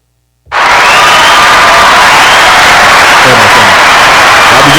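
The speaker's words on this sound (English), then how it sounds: "round of applause for the homosexuals" A crowd erupts in loud, sustained applause and cheering, bursting in abruptly and holding at full intensity throughout, with whoops mixed into the dense roar.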